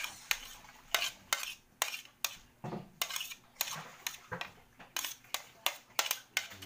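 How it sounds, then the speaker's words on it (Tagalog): Crab with ginger and onion being mixed in a metal pot, a steady series of sharp utensil scrapes and knocks against the pot at a regular stirring rhythm, close and fairly quiet, with no talk. "So, i-mix na natin to lahat guys dito."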